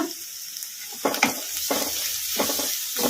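Vegetables for egg fried rice frying over a high flame, a steady close sizzle with a few sharper bursts and scraping stirs of the pan, no voices.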